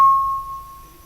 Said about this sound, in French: Ah, c'est le téléphone, d'accord.